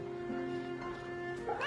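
A cat meows in the video game Fate/Samurai Remnant, a single drawn-out call with a rising end, fairly close over a steady game music backdrop.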